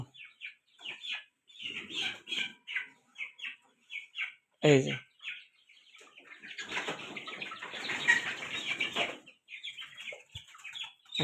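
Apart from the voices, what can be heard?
chickens clucking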